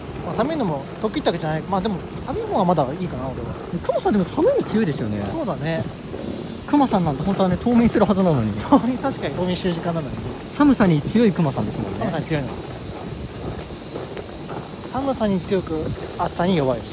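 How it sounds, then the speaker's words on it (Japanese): Cicadas chirping outdoors in summer, a steady high-pitched buzzing drone that runs continuously underneath two people chatting nearby. "セミ鳴いてますよ。"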